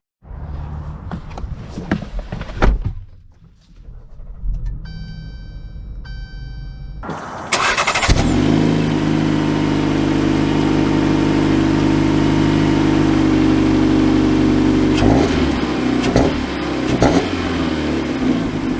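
A 2022 Jeep Compass Trailhawk starts up with a short cranking whir, then a loud steady idle that hums on with a slight rise, after some quiet clicks and mechanical noises.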